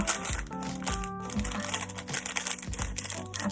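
Paper wrapper being folded around Thai khanom tian dessert, giving close, crisp crinkles and rustles in several short bursts, with no voices.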